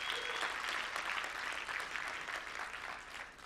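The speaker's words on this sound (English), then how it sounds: "Give yourselves a round of applause." An audience at a partner programme event breaks into applause, a dense wash of clapping hands that is loud at first and then slowly fades.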